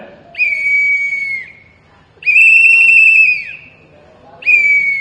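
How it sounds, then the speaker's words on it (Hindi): A handheld whistle sounds three times at a press conference: sharp, loud, sustained shrill blasts of about a second each, separated by short pauses. "ये सीटी रखा है मैंने, ये सीटी है"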